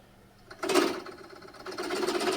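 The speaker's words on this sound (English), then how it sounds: "advance the Forstner bit too quickly. So now very easily, very slowly, seems to be working fine." A Forstner bit bores slowly into a measuring spoon workpiece, starting as a soft hum and rising into a steady, fairly loud grinding whir with a low drone that persists to the end.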